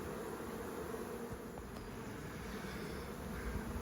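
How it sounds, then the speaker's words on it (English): Honeybees hum steadily around a full-size hive just after a nucleus colony was moved in. The buzz is soft and continuous with no voices. "Some of the bees with the bums up in the air, fanning their wings"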